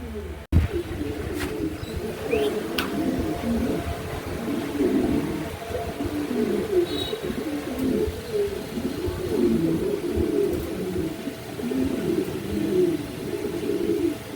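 Soft, continuous cooing of pigeons, low and throaty, overlapping calls from several birds close by over a steady background hum.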